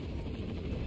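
A helicopter in the video game Resident Evil 4 hovers nearby, its dense rotor rumble filling a short, steady, loud stretch.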